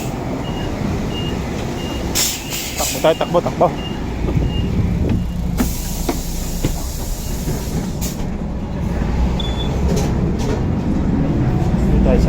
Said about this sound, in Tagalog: yun na ang bus natin.